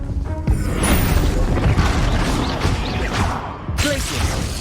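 A fire blast spell exploding in Hogwarts Legacy, a loud booming crash with a whooshing burst and rumbling debris, followed by a second sharp impact near the end.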